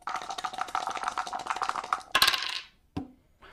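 Defense dice clatter and roll across a table during a HeroQuest board game, a rapid rattling burst followed by a brief settling tap, heard close and alone without talk.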